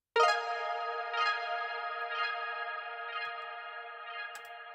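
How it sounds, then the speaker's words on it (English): Soft synth impact, a single bright tonal hit that rings on with echoing repeats and slowly fades into the distance without any cymbal-like harshness. "And I have this little synth impact here,"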